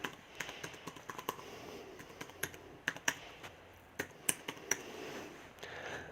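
Fingers type on a computer keyboard, a quiet, irregular run of close key clicks in short bursts with brief pauses, alone without talk.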